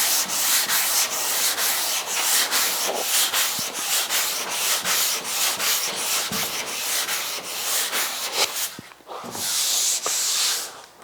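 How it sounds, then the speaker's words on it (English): Sandpaper on a block scrubs across a car fender during bodywork on a 1956 Chrysler 300, a close, continuous rhythmic rasp of repeated back-and-forth strokes that pauses briefly near the end. "Let's hit that with some sandpaper and see if we can see a difference between block sanding with and without guide coat."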